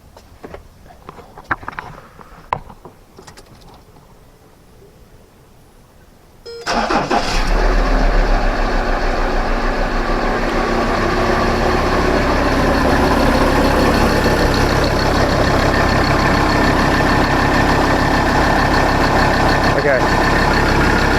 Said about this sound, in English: I'm going to start up the car and just get it running through.